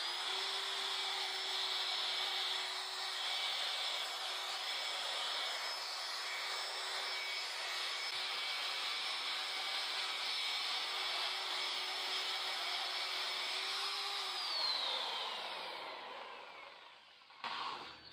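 A power sander runs at speed setting 5 on a surface painted with a Calacatta Gold marble effect, giving a steady close buzzing whine for about fifteen seconds before it winds down and stops.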